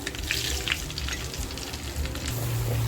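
Homemade red masala sizzles and crackles in hot oil inside a heated clay pot, a dense, steady frying hiss with small pops, close and loud.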